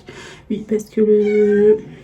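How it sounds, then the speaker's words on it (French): A pet cat meows indoors with a few short calls and then one long, drawn-out meow. Someone speaks over the start. "c'est mon chat qui miaule"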